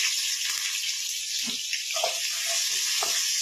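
Garlic and onion sautéing in a pan for stir-fried bean sprouts, a steady bright sizzle with a few soft clinks and stirring bumps, alone and fairly close.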